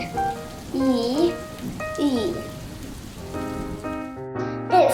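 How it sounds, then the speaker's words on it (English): Steady rain falls throughout, a soft continuous patter with tonal, voice-like glides and bright chimes layered over it. "It's raining"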